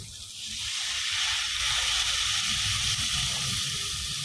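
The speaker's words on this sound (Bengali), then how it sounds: "এবার আমরা জল দিয়ে দেব।" Water poured into spice paste being fried in a pan for a shol (snakehead) fish curry, giving a steady, loud hiss and sizzle that holds throughout with no talk.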